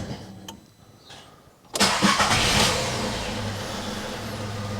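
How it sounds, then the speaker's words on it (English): A 2014 VW Up 1.0 petrol engine fires up after a quiet spell, catching with a sudden burst and then settling into a steady, fairly loud idle nearby, freshly restarted following an oil and filter change. "it's not a good idea to rev an engine that's just been started, especially when it's been drained of oil"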